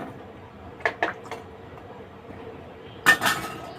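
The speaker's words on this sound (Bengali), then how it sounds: "এবার মাছগুলোকে ছেড়ে দিচ্ছি।" Fish pieces drop into a pot of potatoes and taro simmering in water, giving a few short clinks and splashes near the middle and a louder clattering burst near the end against a quiet background.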